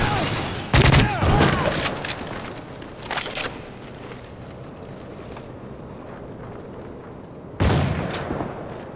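Gunfire in an online shooter game: two sharp bursts of shots, one near the start and another near the end, with fainter shots and noisy background between them.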